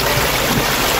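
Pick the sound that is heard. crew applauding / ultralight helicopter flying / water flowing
water flowing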